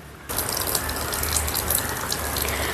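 A steady rushing stream of water pours into a pot of coco peat blocks, starting abruptly after a brief pause and continuing loud and even to the end.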